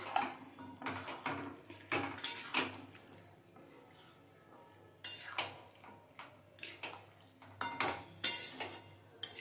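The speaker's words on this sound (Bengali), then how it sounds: "সব কিছু ভালোভাবে মিশিয়ে নিয়েছি মশলার সাথে।" Boiled chickpeas and potato are stirred with spices in a pan for dhaba-style chana masala, with irregular bursts of spatula scraping and metallic clinks against the pan, close by, separated by quieter pauses and no talking.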